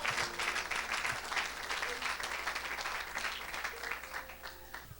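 Congregation applauding during a Sunday church service, steady dense clapping throughout with voices mixed in under it.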